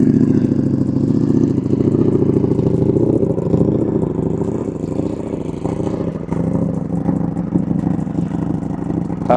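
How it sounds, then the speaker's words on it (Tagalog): Motorcycle engine on a cold start, idling steadily and warming up with a busy mechanical clatter, close and fairly loud throughout with slight unevenness in the rhythm. "Siyempre, hindi mawawala tong cold start."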